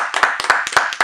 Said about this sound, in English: Hey, man, we're going to clap it up for that.